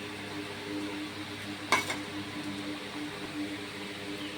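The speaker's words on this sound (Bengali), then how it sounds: "কড়াইতে তেল দিলাম, এবার তেলেতে গোটা গরম মশলা আছে, শুকনো লঙ্কা আছে, আর জিরেটা দিয়ে দিচ্ছি ফোড়নে।" Whole garam masala, dried red chillies and cumin seeds sizzle in hot oil in a kadai, a steady low hiss with one brief clatter of utensils partway through.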